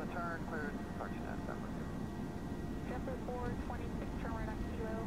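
Aerosoft Airbus A321 takeoff roll in the Prepar3D flight simulator, departing Chicago: a steady, loud jet-engine roar that holds throughout, with short electronic cockpit tones chirping over it.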